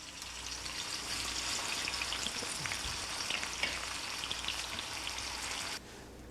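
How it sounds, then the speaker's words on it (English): Onions fry in hot oil in a frying pan over a wood-fired oven, giving a steady, soft crackling sizzle with scattered pops, faint and continuous before easing slightly near the end. "as soon as my oil gets hot enough here, I'm going to put my onions in"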